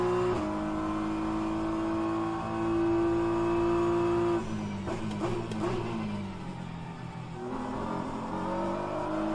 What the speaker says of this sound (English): And I'm driving the BMW M4 GT3